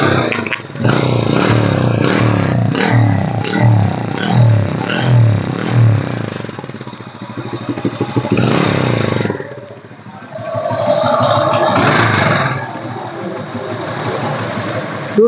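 A 2005 Hero Honda CD Dawn Deluxe motorcycle engine starts with loud clattering turnover, then settles into a steady, close-up idle with brief revs.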